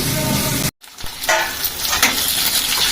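Onion and ginger-garlic paste fry in oil for an onion-tomato curry, a loud close sizzle with stirring scrapes and a brief cut to silence partway through.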